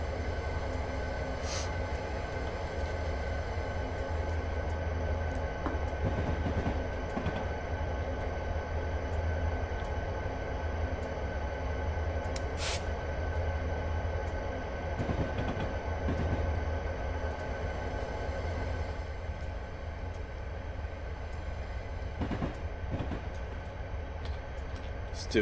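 A long train in Train Simulator 2016 rumbles past continuously and steadily in the Soldier Summit mountains, with a few sharp clanks and someone talking over the rolling noise.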